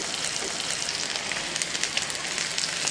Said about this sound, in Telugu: ఉల్లిపాయలు వేసుకుందాం.